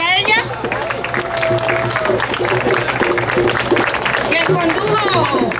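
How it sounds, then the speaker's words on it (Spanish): Audience applause at a folklore festival honouring a papaya festival queen, a steady dense wash of clapping and crowd noise lasting throughout, with a voice and music-like tones partly over it. "Un aplauso para ella."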